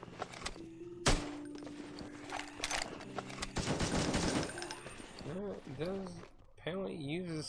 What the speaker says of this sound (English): So I want to see what the machine gun uses.